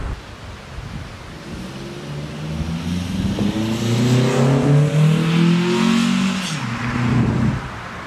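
A modded car engine revs up as it pulls away on the road, rising in pitch, dipping briefly at a gear change, then climbing again, heard up close over steady wind rumble.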